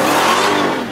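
A Dodge Hellcat engine revving hard on a downshift, a loud, close, brief roaring whir that swells and then eases off at the end.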